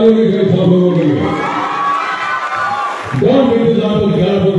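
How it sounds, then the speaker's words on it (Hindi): A large festival crowd at Mithila Mahotsav in Madhubani cheers and shouts loudly in a dense sustained roar, swelling and briefly dipping before rising again, with an amplified voice mixed in. "एक बार जोरदार तालियों के साथ लोगों के लिए"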